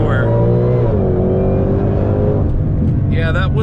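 A 2020 Shelby GT500 launching on a cold road, its engine holding a loud steady drone near 2,500 rpm, then rising sharply as the tires slide, with a voice heard over the engine.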